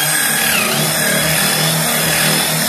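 A power saw cuts a round wooden tabletop with a steady, loud, continuous whine and buzzing drone. The motor holds an even pitch throughout, close by, with no talk over it.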